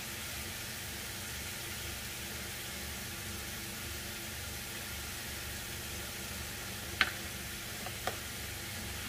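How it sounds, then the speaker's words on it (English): Ground meat and corn sizzle quietly in a pan for stuffed bell peppers, a soft, even hiss throughout with two brief sharp clicks near the end. "you can hear the sizzle of the pan has come down"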